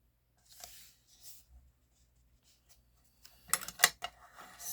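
A scoring tool is drawn across paper in a quiet papercraft session, giving a few faint scratches followed by a sharper, louder burst of close scraping strokes near the end.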